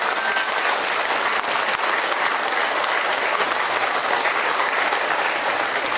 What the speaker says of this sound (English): clap the hands and thank you.